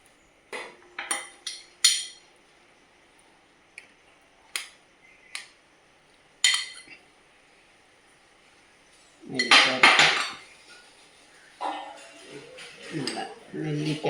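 Spoon and dishes clinking during a home lunch of lentils, spinach and avial being served, with scattered sharp clinks and taps, some close and loud, and a few soft voices and handling sounds in between.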